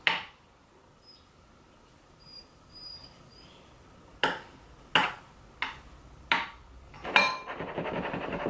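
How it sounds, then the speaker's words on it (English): A baking pan holding loaded sweet potato casserole mixture is shaken to level it, giving a series of about five sharp metallic knocks and rattles a second or so apart, moderately loud in an otherwise quiet kitchen. "Give it a little shake to even it out"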